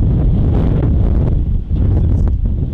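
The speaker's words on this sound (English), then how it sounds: "Yeah, we're on the bridge. It's windy." Strong wind buffeting a microphone on a bridge, a loud continuous low rumble with gusting roar throughout and no pauses.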